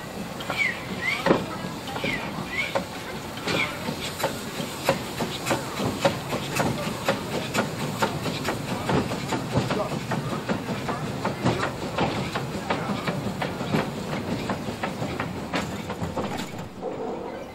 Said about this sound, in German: Dafür fährt die Lok solo zum Betriebsgelände.